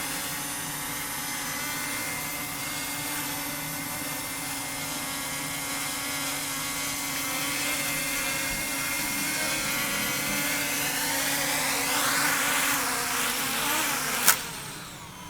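A cheap consumer drone bought from Temu flies nearby with a steady whining, insect-like buzz from its small propellers, the pitch shifting as it manoeuvres and ending in a sharp knock.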